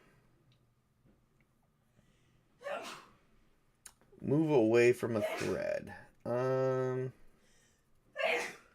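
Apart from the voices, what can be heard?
woman sneezing in background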